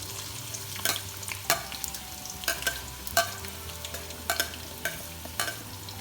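Four medium onions, chopped, frying in oil in a pan for mutton biryani, with repeated sharp stirring scrapes over a low steady sizzle and no talk.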